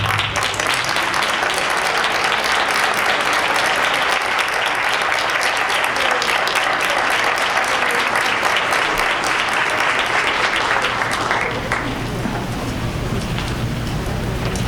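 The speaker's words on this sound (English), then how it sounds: "Would you please rise and let us give you a round of applause." Audience at a school district board meeting applauding its building principals, a loud, dense, sustained clapping that continues for most of the stretch and eases slightly near the end.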